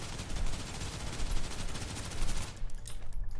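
Rapid automatic gunfire in the shooter game Snowbreak: dense, loud bursts of rattling shots in quick succession, cutting out near the end with a few scattered reports.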